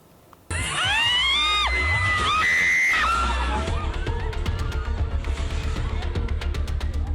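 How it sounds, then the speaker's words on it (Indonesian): Crowd at a night market in Purworejo, Central Java, screaming and shouting in panic as an ombak banyu ride collapses, with high shrieks, clattering bangs and rhythmic thumping beneath. "Jeritan histeris dan teriakan panik terdengar saat wahana ombak banyu di sebuah arena pasar malam tiba-tiba roboh"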